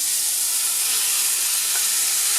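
Mushrooms hit a hot pan of deglazed sauce for filet mignon, giving a steady, loud, hissing sizzle that holds evenly throughout with no talking.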